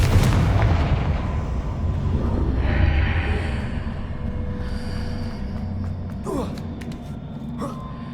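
A Confringo fire spell detonates in Hogwarts Legacy with a heavy booming blast at the start that rumbles and decays over several seconds, followed by softer game sound effects.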